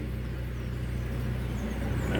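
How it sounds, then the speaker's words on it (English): Nissan Almera with a QG15 engine idling slightly high, a faint steady low hum with no voices over it. "Right, the idle a little high."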